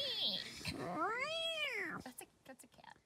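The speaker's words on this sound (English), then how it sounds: "That's a cat." A cat meows loudly and close by at a campsite at night, one long rising-and-falling wail followed by a few shorter calls, with people talking briefly afterward.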